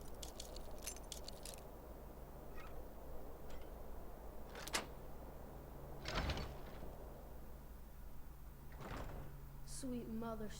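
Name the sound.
door lock picked and opened in a video game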